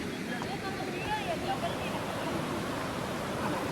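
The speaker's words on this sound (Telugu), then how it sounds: "అక్కడ నుంచి ఫ్లో కొట్టుకుంటూ పోతుంది, క్రేజీ ఉంది వాటర్ అయితే." Constant rushing roar of a stream flowing under a bridge near Gudisa Hill Station, loud and unbroken, with faint voices barely audible beneath it.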